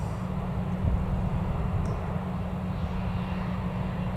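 A Lufthansa airliner taxiing at Newcastle Airport, heard as a steady, broad rumbling roar at moderate distance with no clear changes.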